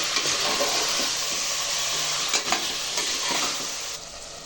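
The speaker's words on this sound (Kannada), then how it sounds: "5 ಟೊಮೊಟೊ ಹಾಕಬೇಕು. ಚೆನ್ನಾಗಿ ಫ್ರೈ ಆಗಲಿ." Tomatoes fry in a pan with a continuous hiss and crackle, broken by occasional stirring scrapes, close and fairly loud.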